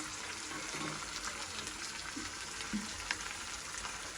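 Food fries and sautés in a pan with a soft, steady sizzle that stays faint throughout, with occasional small pops and stirring scrapes and no talking.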